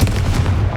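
The Confringo explosive spell goes off in Hogwarts Legacy, a loud, deep, booming blast that rumbles heavily for under a second.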